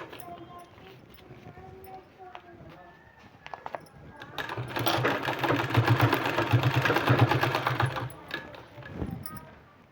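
A domestic sewing machine runs in a steady buzzing burst while stitching a folded sleeve design, preceded by quieter handling noises and a few tonal sounds.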